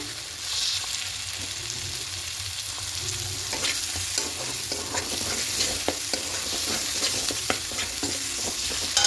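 Chicken frying in a pan with spice masala while being stirred, a steady bright sizzle with repeated scraping and clicking of a utensil against the pan, close and continuous, no talk.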